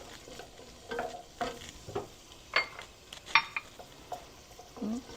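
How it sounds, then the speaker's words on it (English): Chopped onions sauté in olive oil in a hot pan, a soft steady sizzle broken by several sharp scrapes and taps of a utensil stirring against the pan, with no one talking. "we're going to add a little bit of olive oil to a hot pan, and we're going to saute our onions"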